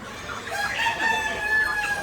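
Roosters crowing and chickens clucking at a shop selling broiler and country chickens, with overlapping calls of moderate loudness.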